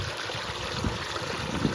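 Water flowing steadily through a farm field, a continuous broadband rushing and trickling wash with no voices over it.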